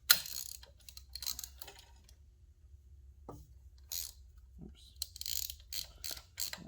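A hand ratchet tightens a bolt while a PMA charging system kit is installed on a motorcycle. Close, faint, rapid clicking comes in short bursts separated by brief pauses.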